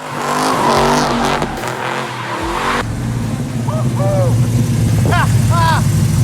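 A 640-horsepower 1970 Chevelle with no windows or back seats rumbles loudly and revs up close, a deep throaty drone that shifts in pitch as it drives, with brief squealing chirps.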